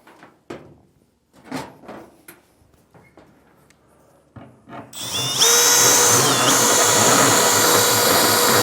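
A power drill bores a hole for a backup camera grommet during a rear view camera installation, with a few clicks and knocks first, then a loud, steady high-pitched whine running for several seconds.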